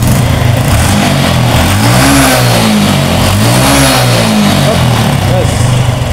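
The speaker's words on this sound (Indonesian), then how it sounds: "Gas, gerung-gerung gas." A Honda Revo FI motorcycle with a fault in its ignition and fuel injector revs repeatedly up close, loud engine swells rising and falling in a rhythmic pattern over a rough running base, with voices nearby.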